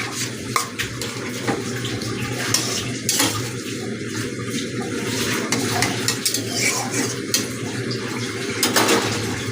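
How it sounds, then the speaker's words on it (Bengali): Fish goes into a simmering bitter gourd and potato curry amid a dense, loud wash of liquid splashing and bubbling with clinks of utensils against the pot, close by and steady throughout, no one talking. "এখন আমি মাছটা ঢেলে দিলাম"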